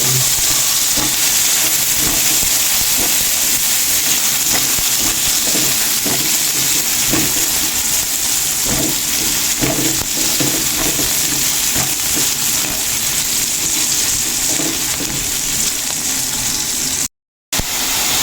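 Loud, steady sizzle and hiss of sautéing in leftover fish-frying oil for papaya escabeche, with faint stirring clatter underneath and a brief dropout near the end.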